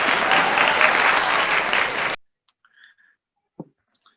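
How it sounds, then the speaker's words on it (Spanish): Dense, loud audience applause welcoming a panelist at an academic talk on schizophrenia, lasting about two seconds then cutting off abruptly into near silence with a few faint clicks. "Los vamos a recibir con fuertes aplausos."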